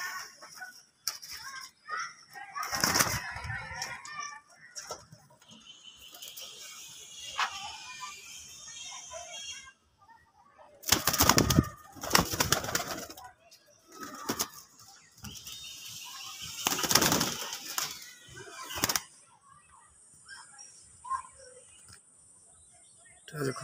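Andhra pigeons are released and flap their wings in bursts of loud, close flutter with rustling in between, while someone talks intermittently over them.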